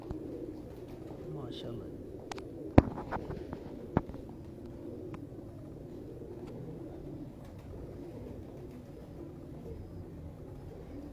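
An old, rare teddy pigeon cooing softly amid quiet surroundings, with a couple of sharp knocks and someone talking over it.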